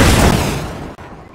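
Gunfire in the Roblox game Jet Wars: a loud, dense burst of shots and booms that fades over about a second, breaks off, then resumes faintly.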